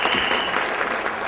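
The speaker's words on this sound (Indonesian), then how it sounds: "tepuk tangan untuk beliau" An audience at an event in Surabaya applauds in a brief, dense, steady burst of clapping.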